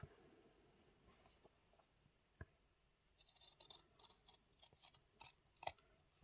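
Scissors cutting fabric to make a small hygiene pouch, a quiet close series of short snipping crunches after a near-silent start, ending with a louder clack.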